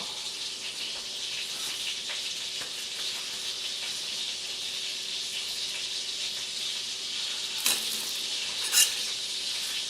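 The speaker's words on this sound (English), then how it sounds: "And I've already got the pan going, getting the butter good and hot." Butter sizzles in a hot pan with a soft, even hiss throughout. A couple of sharper crackles or taps come near the end.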